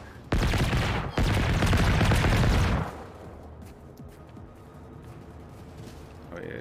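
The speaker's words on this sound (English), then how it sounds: "I don't really know what he's shooting at" Bursts of gunfire from an unseen shooter in the trees in the game Generation Zero, two loud sustained volleys close together in the first few seconds, then quieter rumbling ambience with a brief sound near the end.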